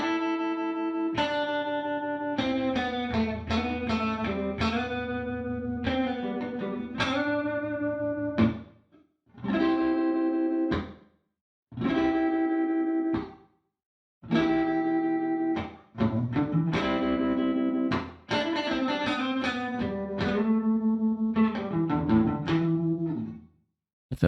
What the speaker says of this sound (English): just see what it sounds like with the amp simulation of the cabinet in the room